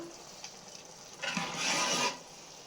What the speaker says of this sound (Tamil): அதனால் பக்குவமாக தான் கலரணும்